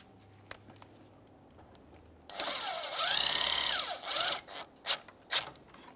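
Battery hold-down mounting nuts are tightened on a 2008-2017 Mitsubishi Lancer, probably with a ratchet or power driver. A few faint clicks come first, then a steady whirring run of about two seconds, followed by several short bursts.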